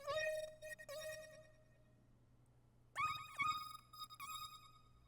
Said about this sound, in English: this Effectrix preset right here, Drummer Lab 3, is really what's going to change the melody and make it sound like this